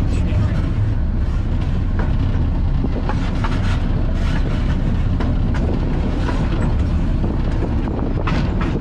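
A diesel-electric locomotive, once used inside a heavy machinery factory, rolls slowly along rough track. Its loud, constant low rumble is layered with rattles and metallic clicks from the wheels, heard close up from the cab.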